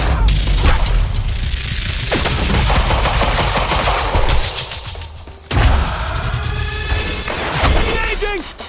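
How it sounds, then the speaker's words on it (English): Rapid automatic gunfire and bursts of shots fill a shootout in the video game Quantum Break, loud and dense, with crashes and impacts mixed in and game characters' voices under the firing. "Who's shooting?"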